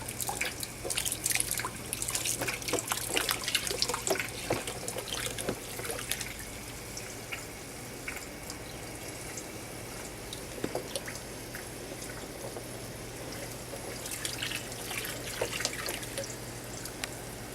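Water drains and trickles from a small DIY aquaponics fish tank setup, with steady dripping and splashing over a constant low hum, livelier at the start and near the end, with no one talking.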